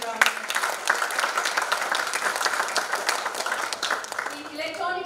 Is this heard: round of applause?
yes